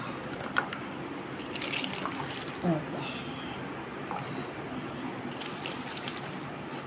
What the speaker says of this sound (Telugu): ముందు కొత్త ఆయిల్ వేసి ఇందులో